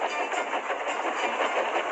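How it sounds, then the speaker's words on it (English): Stop-motion Thomas the Tank Engine railway scene: a steam engine train gently braking, a continuous close rolling rumble with faint rhythmic clatter of wheels on track. "Gently braking, Edward's driver checked the engine's speed"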